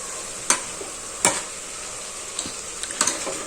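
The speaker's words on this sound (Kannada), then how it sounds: "ನಂತರ ಇದರ ಹಸಿ ವಾಸನೆ ಹೋಗೋವರೆಗೂ ಮೀಡಿಯಂ ಫ್ಲೇಮಲ್ಲಿ ಚೆನ್ನಾಗಿ ಫ್ರೈ ಮಾಡ್ಕೊಳ್ಬೇಕು" Soaked lentils frying in a pan over a medium flame, a soft continuous sizzle broken by a few sharp spoon scrapes and taps as they are stirred, loud and close.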